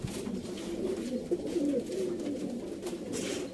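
Sialkoti Ali wala pigeons coo in soft, repeated rolling phrases, close and fairly quiet, with faint background noise and no speech.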